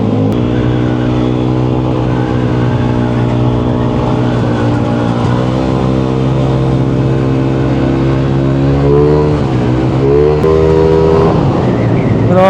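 A Yamaha Aerox scooter with a 183cc engine build and big bulbs, running loud and close with a sustained revving drone whose pitch rises and dips as the rider overtakes.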